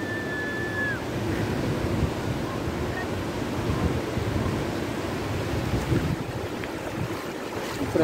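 Ocean waves wash steadily at Playa Torola beach in La Union, El Salvador, a continuous broad roar mixed with wind buffeting the microphone, with no voices.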